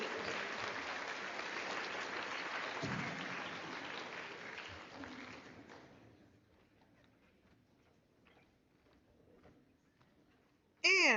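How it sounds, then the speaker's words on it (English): Audience at an 8th grade recognition ceremony applauding the graduating class of 2026. Full, even applause holds for about six seconds, then fades to scattered faint claps before a sudden loud burst at the very end. "Please applaud the class of 2026"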